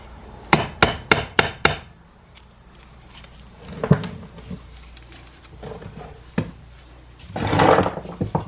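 A dead blow hammer strikes a locked-up 2004 Honda CRF250 dirt bike engine during teardown: five quick, sharp, close blows in a row, then a few scattered knocks and a rougher burst near the end.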